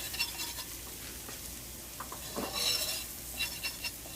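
Soup poured into a browning flour roux in a pot for Russian sauerkraut shchi, then stirred with a utensil: soft sizzling, wet swishes and light scraping against the pot, close and steady without speech.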